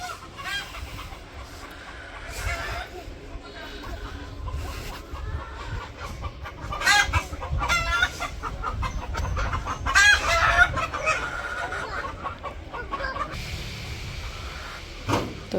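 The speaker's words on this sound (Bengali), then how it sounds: "তো এই যে মোরগ নিয়ে এসে পড়ছে।" A rooster on a village farm clucks and crows at close range over a low background murmur, calls coming in scattered bursts that grow louder toward the middle.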